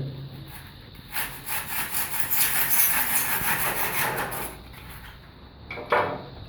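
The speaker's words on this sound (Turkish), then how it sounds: "Bir testere veya falçata yardımıyla kesiyoruz arkadaşlar." Close-up scraping and sawing strokes of a saw or utility knife cutting diagonally through a stiff foam cornice molding, a rough rasping burst lasting several seconds, then a final short cut.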